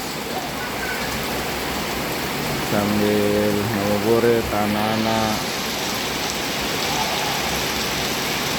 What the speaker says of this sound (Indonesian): Kembali turun hujan yang lumayan deras